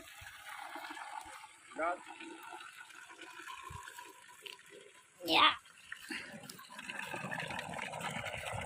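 Water gushing from a borewell pipe on a mango farm, a steady broadband rush running throughout, with a louder splashing surge near the middle and voices talking over it.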